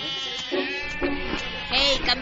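A goat bleats several times up close, short wavering cries in quick succession.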